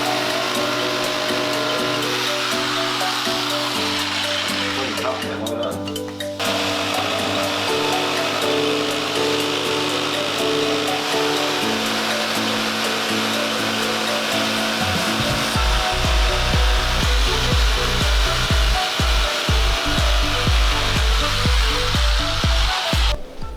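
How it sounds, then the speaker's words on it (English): Jigsaw cutting a wooden boot liner for a Mazda MX-5 Miata, a loud close motor buzz that shifts pitch as the blade bites, pauses briefly, then settles into a harsh rapid rasping chatter through the wood. "cut this out with the jig"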